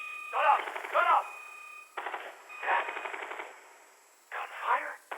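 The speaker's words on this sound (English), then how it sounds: "Gunfire?" Several rapid bursts of automatic gunfire with electronic, game-like tones from the video game Exoprimal, separated by brief gaps, loud and close.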